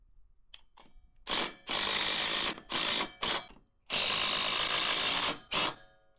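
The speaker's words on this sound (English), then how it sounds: "I will use my impact wrench to secure them." An impact wrench drives 2-inch lag bolts with 7/16-inch heads to mount a solar street light. It gives several close, loud hammering bursts of varying length, separated by short pauses, with nothing else heard.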